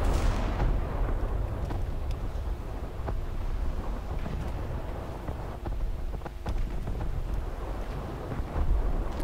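Warship naval guns fire repeatedly in War Thunder naval combat against a Chapayev cruiser, heavy booming blasts over a constant roar of wind and sea noise, dense and loud throughout with no clear gaps.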